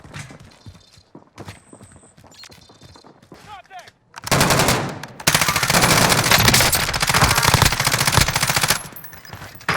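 Nail gun fire in Call of Duty Black Ops Cold War Warzone, a dense burst of rapid metallic shots starting midway, loud and sustained, with a sharp jump partway through, after quieter ambient game sounds with scattered clicks.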